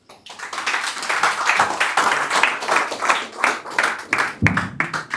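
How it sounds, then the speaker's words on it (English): Sustained applause from a tech meetup audience after a talk, dense and steady clapping for several seconds with no talking. "Let's clap for him again."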